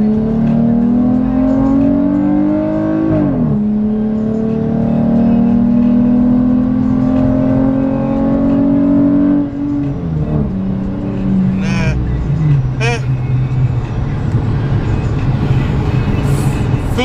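V6 Dodge Challenger fitted with a throttle body spacer accelerating hard, engine note climbing through the revs with a faint whistle, then a gear change and a second pull, loud and close from inside the car.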